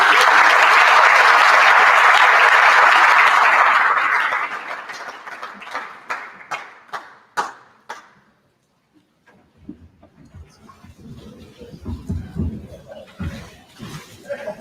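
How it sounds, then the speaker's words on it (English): A conference crowd in Cape Town gives a full round of applause for panel guests from RSA Web, loud and dense at first, then thinning into scattered individual claps before falling silent as a voice begins to talk. "Help me give them a good round of applause."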